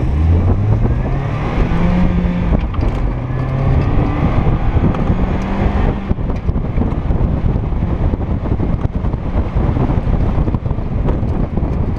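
An autocross car spinning out on a course, its engine roaring loudly and continuously with rising and falling revs, heavy wind buffeting the microphone throughout.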